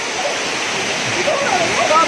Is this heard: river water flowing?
yes